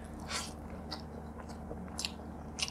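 Rice mixed by hand with ridge gourd, potato and poppy seed being eaten in a Bengali meal, giving soft, close chewing with a few sharper crunchy bites spaced irregularly over a quiet background hum.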